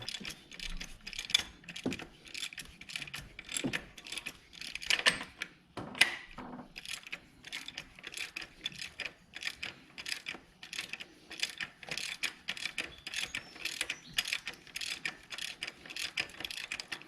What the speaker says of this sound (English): you're going to need a 22mm socket to unscrew the PCV valve